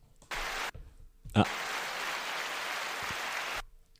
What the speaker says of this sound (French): J'ai mis des applaudissements.